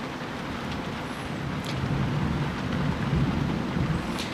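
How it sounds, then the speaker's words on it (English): Night thunderstorm near Waynesburg with steady heavy rain hissing throughout and a low rolling rumble of thunder building through the middle, no one talking. "There's a line of thunderstorms coming through up a little northwest of me at Waynesburg."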